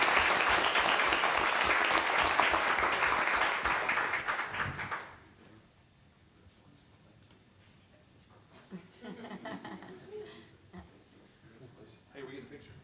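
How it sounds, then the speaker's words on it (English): A room at a school board meeting bursts into a round of applause, dense clapping for about five seconds that fades out, followed by quiet murmurs and scattered voices. "Give them a round of applause"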